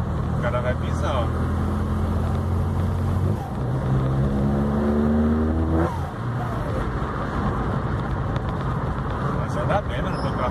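An old 1980 V8 car engine idles with a deep rumble, then revs up in a rising climb and drops back around six seconds, heard close and loud with people talking over it.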